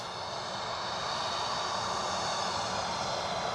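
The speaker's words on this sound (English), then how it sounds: "this is our American Airlines Dreamliner, unless I'm much mistaken." An American Airlines Boeing 787 Dreamliner at Edinburgh Airport gives a steady, loud, broad jet-engine roar that holds evenly throughout, with no voices.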